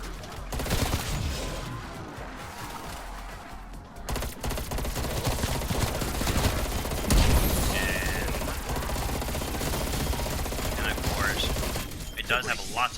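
A FAMAS rifle fires in Cold War Zombies, rapid automatic bursts crackling densely over game ambience and mechanical clatter, loud and nearly continuous, with someone talking over it.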